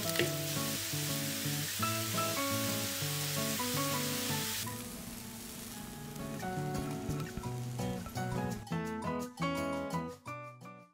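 Mushrooms frying on high heat in garlic-infused oil, a steady sizzle heard under a bed of melodic background music, with no talk.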